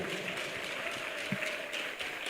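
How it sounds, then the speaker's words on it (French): Worshippers in a church service applaud and cheer for Jesus, a brief steady stretch of clapping with a crowd roar underneath, moderately loud. "Acclame Jésus"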